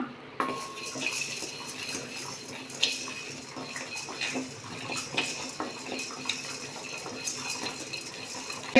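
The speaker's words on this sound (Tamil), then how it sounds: "எண்ணெய் இல்லாமல் ரோஸ்ட்டாக வறுப்ப வறுத்தெடுப்போம்" Cumin, fennel and rice dry roasted in a pan without oil, giving steady scraping and clinking of a utensil against the pan with small rattles and sizzle-like hiss throughout, close and continuous.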